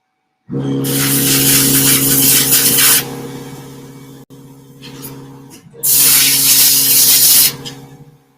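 A welder is started up on very rusty metal before the ground clamp is attached: a close, loud buzzing hum under harsh hissing crackle, which cuts out briefly midway, then surges back.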